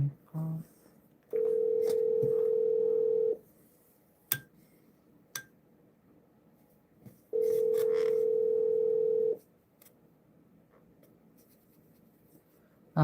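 Two long, steady phone ringback tones, each about two seconds, sound from a call that goes unanswered, separated by quiet gaps with light ticks and scratching.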